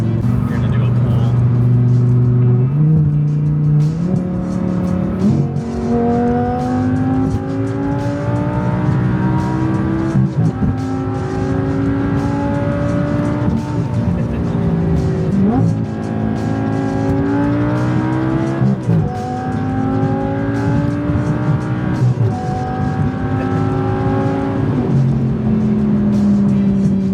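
Audi R8 V10 engine revving hard through several gears, rising pitch climbing then dropping at each shift, loud and close from inside the car.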